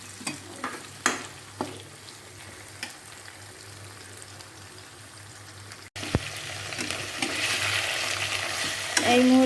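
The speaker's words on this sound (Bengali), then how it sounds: "আদা জিরে বাটা দিয়ে একটু কষিয়ে জল দিয়ে দেবো।" Ginger-cumin paste sautéing in a pan, a steady close sizzle with occasional stirring scrapes, growing louder and brighter in the second half.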